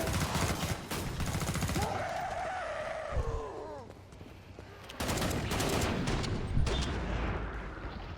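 Shotgun blasts and gunfire from the zombie co-op shooter Killing Floor 2, loud repeated bursts with a sliding wail in the middle, over dense game noise.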